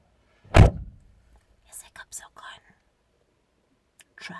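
A car door shoved shut on a steep slope lands with a single loud thunk near the start, followed by quiet voices speaking briefly.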